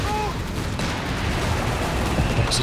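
Dense battlefield gunfire and explosions in Company of Heroes 3 during a 2v2 match with Stuart and Panzer III tanks and AT guns, a constant rumbling barrage of overlapping shots and booms, loud and continuous, with commentary speech mixed in.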